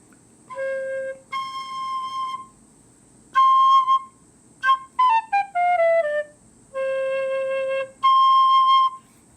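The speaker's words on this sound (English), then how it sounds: "Now I have a tin whistle, which is a help." Tin whistle played solo, sounding a series of clear, sustained high notes with short gaps, including a quick descending run of notes midway, with no talking over it.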